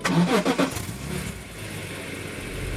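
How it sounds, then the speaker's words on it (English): A BMW E46 M3 straight-six engine cranks briefly on a push-button start, catches, and settles into a steady low idle, close by with no talking. "Let's have a little listen to the engine start up on this car."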